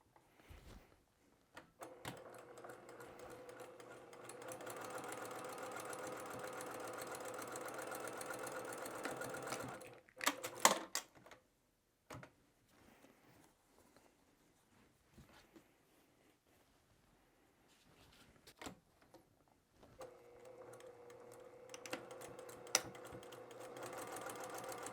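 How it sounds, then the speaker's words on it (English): Sewing machine basting narrow stitches on fabric: a close, even mechanical whir with rapid stitching rhythm runs in several bursts, separated by pauses of near silence and small handling clicks. "we're just going to baste these on, so that's that real narrow stitching."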